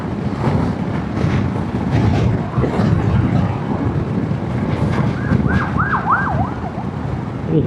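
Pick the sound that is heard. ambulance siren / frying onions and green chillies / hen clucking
ambulance siren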